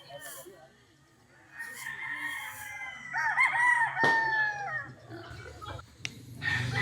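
A possum sweater gamefowl stag crows once, a loud, wavering cock-a-doodle-doo heard close up, with faint clucks and rustling around it.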